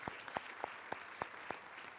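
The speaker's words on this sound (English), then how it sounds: "Give him a round of applause." Applause for a jazz bass player at a theater talk: crisp, regularly spaced claps, about seven in a steady beat, fairly faint and distant over a quiet room.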